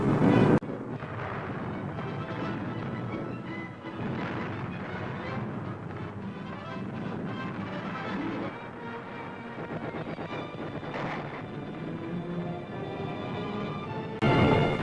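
WWII-era bombing raid over Essen recorded on old archive film: a continuous dense rumble of explosions and blasts, with heavy low booms rolling under crackling, noisy texture throughout.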